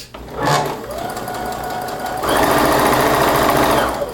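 A sewing machine stitches a straight 5/8 inch seam at a short stitch length of 1, a brief burst of fast rhythmic whirring, then a steady run, and finally a louder, denser stretch of stitching close by.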